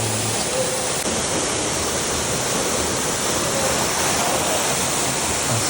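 Hedge Falls, a waterfall on a hiking trail on Mt Shasta, roars with a dense, unbroken rush of falling water that stays loud and steady throughout.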